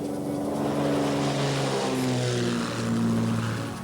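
Turbo Firecat firefighting aircraft on the ground at the retardant loading area, a steady droning propeller and engine tone with shifting hum, sustained and fairly loud with no talk.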